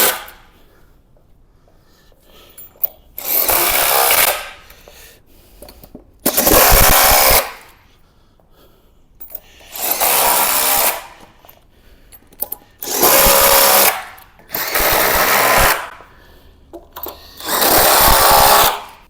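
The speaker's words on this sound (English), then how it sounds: "What you need then is a 21mm socket, and we're just going to tighten up." A power tool with a 21mm socket tightens the leg bolt on a solid oak pool table, running loud in six bursts of about two seconds each, with quiet gaps between them.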